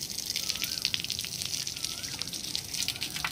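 Water from a hose pipe splashes onto plants in a garden whose plants are in poor shape from lack of water, a steady close-up gushing and trickling with no pauses.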